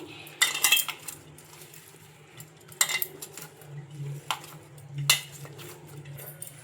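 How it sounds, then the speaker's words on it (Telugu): Paratha dough is mixed with oil by hand in a metal plate, giving soft, irregular clinks and scrapes of the dish with quiet squishing between them and no speech. "ఇలా ఆయిల్ కూడా వేసుకొని ఒకసారి మొత్తం ఇలా బాగా కలుపుకోవాలి."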